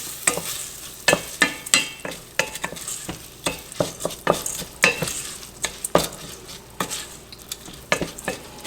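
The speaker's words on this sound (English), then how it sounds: "I'm giving this a good mix and stir." Rinsed rice and vermicelli noodles are stirred and toasted in a pan on the stove, with repeated scraping strokes of a spoon and a light sizzle underneath, close and steady with no voices.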